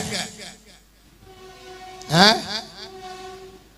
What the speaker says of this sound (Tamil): நீங்க சொல்லுங்கன்னா ட்ரெயின் சொல்லுது, போய்கொண்டிருக்கிறேன்.